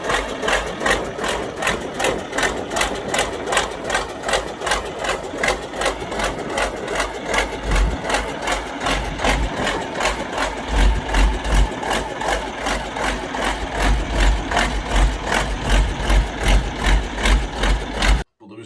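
A Fordson Major tractor fitted with a Perkins V8 engine runs steadily at close range, its rapid, even firing pulses thrumming continuously with a low rumble throughout, with no talk over it.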